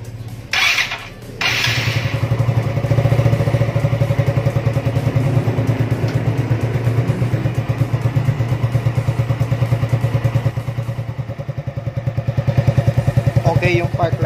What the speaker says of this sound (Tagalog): Siyempre, sundin natin yung engine.